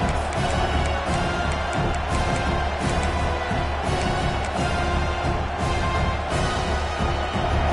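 Stadium crowd noise in a college football video game, a dense, steady roar of many voices and cheering that fills the whole stretch without letting up.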